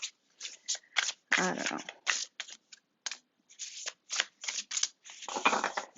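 Tarot cards being shuffled by hand in repeated bursts of riffling and slapping, with short pauses between, close and clear; a person briefly speaks amid the shuffling.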